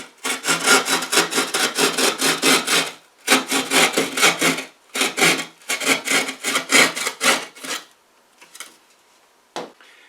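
A drywall patch being cut for a hole repair, with rapid back-and-forth rasping strokes in three long bursts separated by short pauses, loud and close, then a few isolated scrapes before it trails off, no talking.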